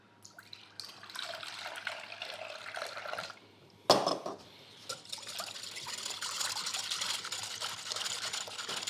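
Milk pours into a glass bowl holding an egg, a close liquid trickle and splash that begins faintly, breaks off with a clunk, then runs steadily.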